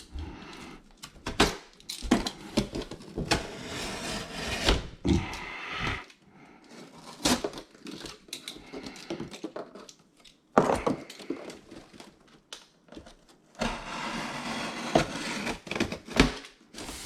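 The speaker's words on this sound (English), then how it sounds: "what I'm going to do is just cut down one side of the box here and roll it out" A blade slicing down one side of the cardboard box of an EcoFlow Delta Pro 3 power station, heard close as repeated scraping, tearing bursts with short pauses between strokes.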